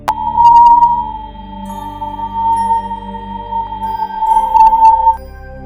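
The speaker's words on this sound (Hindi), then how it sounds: "चलिए अब अपनी पृथ्वी की ऊर्जा स्रोत सूर्य की आवाज को सुनते हैं।" Steady, loud electronic tone presented as the sound of the Sun, a single sustained sonar-like hum that holds one pitch for several seconds over a low rumbling background before cutting off, with no voices.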